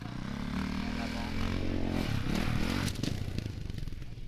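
A dirt bike revs loudly as it rides up and floats through a jump, then the engine note drops and landing clatter and scraping follow, with a voice speaking over parts of it.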